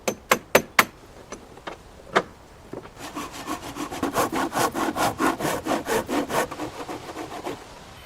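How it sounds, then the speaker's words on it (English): A hand saw cuts wooden beams to size for a tree house wall frame. A few sharp knocks and taps come first, then a steady run of close, rhythmic back-and-forth sawing strokes. "The wooden beams are being cut to specific sizes to facilitate the construction of the wall frame."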